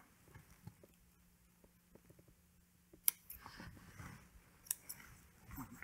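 Scissors trim fabric around a round hat patch near the sweatband, giving a few quiet, close snips and crisp clicks, with soft handling noise between cuts.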